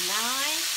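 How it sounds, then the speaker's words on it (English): Onions, spring onions and tomatoes sizzle in a hot pan for ackee and saltfish, a steady close frying hiss with a faint rising tonal whine running through it. "I'm going to put the onions, spring onions and tomatoes in."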